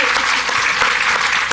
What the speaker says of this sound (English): You can never have enough applause.